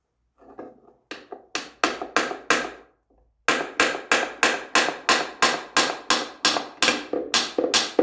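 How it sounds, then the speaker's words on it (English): A hammer tapping a gear into a Triumph TR6 gearbox during a rebuild: a few light hesitant taps, a pause, then a steady run of about fifteen sharp, ringing metallic strikes close to the microphone. "I'm just wondering if I tap it with a hammer, will it go in?"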